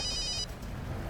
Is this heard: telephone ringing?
yes